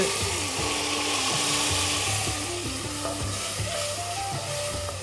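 Garlic and tomato hit hot oil with cumin and sesame seeds, giving a continuous loud sizzle and crackle with occasional utensil movement, close up and without talk.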